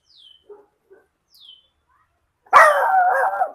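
A few faint chirps and small sounds, then a single loud, close dog bark that trails into a drawn-out howl-like whine, in Goa during the rainy season.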